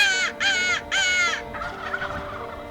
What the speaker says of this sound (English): Loud calls like crow calls